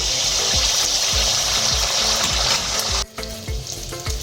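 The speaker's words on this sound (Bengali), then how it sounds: "এবার এক হাতা ব্যাটার আমি এর মধ্যে দিয়ে দিচ্ছি।" A ladle of batter fries in hot refined oil in a kadai for oil pitha, a loud, close, constant bubbling sizzle with rhythmic soft thumps, briefly dipping near the end before crackling on.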